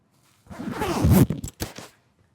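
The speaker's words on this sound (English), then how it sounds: "You'd kind of put it over your shoulders, zip it" A zipper being pulled up on a homemade quilted cotton puffer vest, a close rasping zip lasting about a second, followed by a few short fabric rustles and scrapes, with no talking.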